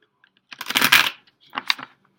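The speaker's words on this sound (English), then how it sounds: "I'm going to shuffle these up a few more times" Tarot cards being shuffled by hand, two brisk riffling bursts with a short pause between, close and fairly loud with no talking.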